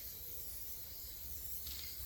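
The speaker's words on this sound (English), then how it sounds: "and how much I have to spray." Montana Gold spray paint hisses onto an MDF board as one steady, soft spray that runs the whole moment without a break.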